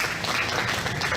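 Applause rings out for exhibitors at a county fair livestock show, a dense, steady burst of many hands clapping at once, brief and fairly loud in an open arena setting.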